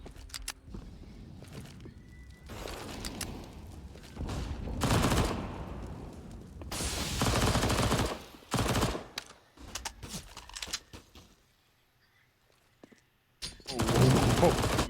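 SMG and rifle fire rattles in Counter-Strike during a Fnatic match at the IEM Rio Major 2022, with loud sustained bursts broken by short pauses and a near-silent stretch before a final volley.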